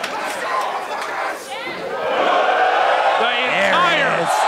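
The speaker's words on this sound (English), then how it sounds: "This crowd's coming alive." Wrestling crowd at a Limitless Wrestling anything-goes match roars and cheers continuously, a loud dense wall of voices that swells louder midway, with scattered shouts and whistles rising above it.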